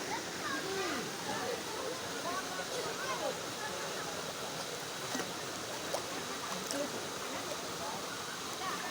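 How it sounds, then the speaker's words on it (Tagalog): A steady, broad rush of a mountain waterfall fills the scene, with faint voices talking beneath the roar. "Ang ganda ng talon."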